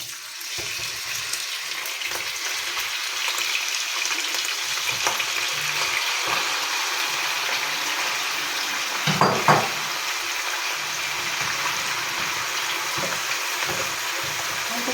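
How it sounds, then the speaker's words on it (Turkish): Three kilograms of beef fry in a pot for Turkish kavurma with a steady, dense sizzle and hiss, broken by occasional scrapes and clinks as the meat is stirred. "arkadaşlar bu şekilde kavuruyoruz etimizi"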